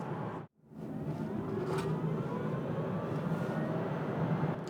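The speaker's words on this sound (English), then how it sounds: "And I also like that you can hear the electric motor." A 2021 Kia e-Soul electric car accelerates, its motor giving a faint rising whine over steady road and tyre noise heard from inside the cabin, briefly interrupted near the start.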